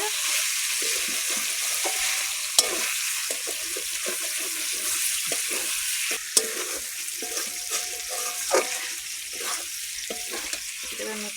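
Chicken curry is stirred and fried in a pan, giving a loud, continuous sizzle broken by repeated scraping strokes and a few sharp knocks of the utensil against the pan.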